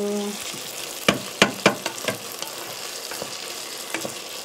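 Ingredients fry in a pan with a steady sizzle while a utensil stirs them, giving a cluster of sharp clinks and scrapes in the first half, then a few sparser knocks over the continuing hiss.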